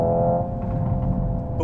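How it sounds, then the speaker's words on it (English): The synthesized engine note of a Hyundai Ioniq 5 N, played through the car as a steady tonal drone with layered harmonics, fairly loud and close, lasting only a moment. "You can hear the engine note changing."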